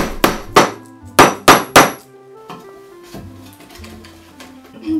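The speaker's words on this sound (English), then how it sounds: "Now I'm preparing the mortises here, starting with a drill and finishing with a chisel for the legs." A chisel struck with a mallet to cut mortises in soft 2x6 lumber for workbench legs: five sharp, loud, ringing blows in two quick groups, then quieter scraping and tapping.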